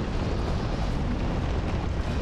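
Explosion in Dark Souls 2, a loud sustained roaring blast with heavy low rumble lasting a couple of seconds, dense and close.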